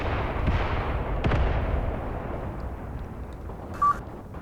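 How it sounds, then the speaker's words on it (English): Mortar shells pounding a village in Graviteam Tactics, a series of deep, distant thuds and rumbling booms that roll and fade over a low battlefield din, with a brief high beep near the end. "My mortars are pounding the village."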